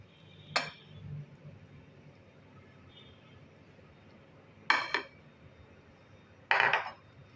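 Spoon clinks sharply against a bowl three times while dahi chana chaat is stirred with yogurt, each bright strike separated by quiet pauses.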